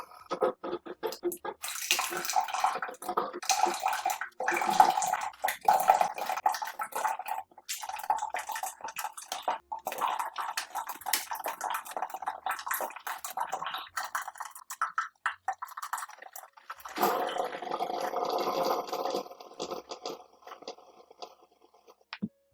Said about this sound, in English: I'm going to make a descale just to run some water through the Keurig machine